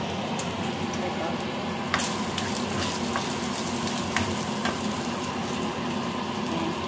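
Dried anchovies (dilis) sizzling steadily in a hot pan, a dense continuous crackle with occasional louder pops.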